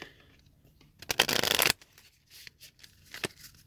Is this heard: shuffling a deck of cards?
yes